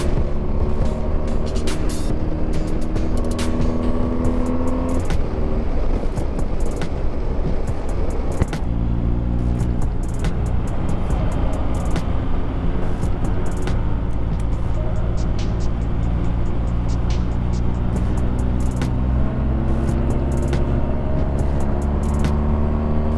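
A motorcycle rides along a Colorado mountain road near Loveland Pass, its steady engine drone and wind rush loud and unbroken throughout, with the engine note rising and falling as the bike shifts and accelerates.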